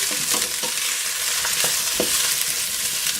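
Potatoes frying in a hot pan are stirred through the oil, a continuous sizzle broken by a few quick scraping strokes, close and with no voices.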